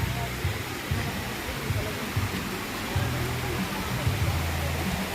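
A large stream rushes steadily in a constant broad roar of flowing water, with people's voices heard faintly beneath it.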